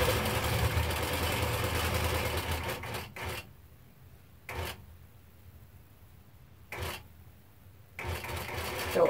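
A Nolting Pro-Series longarm quilting machine sews binding onto a quilt, a steady mechanical whir for about three seconds, then quiet gaps broken by three short bursts of stitching.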